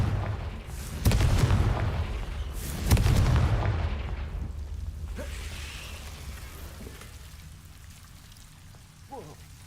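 Two heavy booming blasts of the Confringo explosion spell in The Sims 4, each followed by a long rumbling, crackling debris wash that slowly fades, with a few faint later pops.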